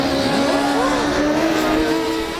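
Racing karts with engines of nearly 100 horsepower, driven by women in a kart race at Is-sur-Tille, scream past close by, their engine whine loud and continuous, with several overlapping tones rising and falling as the karts accelerate and lift.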